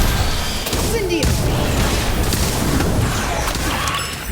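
The Incendio fire spell in a Harry Potter video game: a dense, loud, continuous roar of blasts and crackling combat effects with voices mixed in.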